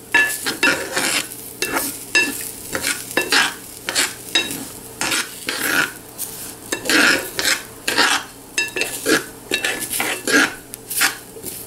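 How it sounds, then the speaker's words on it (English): Pundi chutney ingredients roasting in a pan over low heat, a rhythmic series of metal spoon scrapes and clinks against the pan over a soft continuous sizzle, close and clear. "Roast at lower heat."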